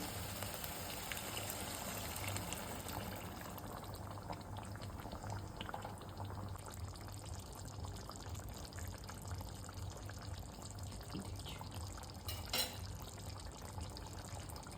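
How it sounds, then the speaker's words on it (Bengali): Fried potatoes for alur dom sizzle and bubble in a pan after hot water is poured in, giving a faint, steady boiling hiss that continues close by with no talking. "লাল লাল করে ভেজে রাখা আলুটাকে এর মধ্যে ছেড়ে দিলাম। গরম জল যোগ করছি এর সঙ্গে।"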